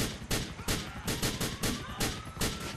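Repeated pistol shots in the video game GTA 4, sharp bursts spaced roughly every half second, fairly even and mid-distance, forming a steady volley across the whole stretch.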